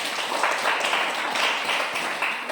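Pupils in a classroom giving a round of applause, a continuous, fairly faint wash of scattered clapping that holds steady for a couple of seconds.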